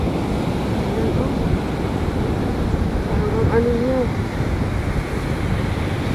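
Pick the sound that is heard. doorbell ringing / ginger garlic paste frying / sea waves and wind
sea waves and wind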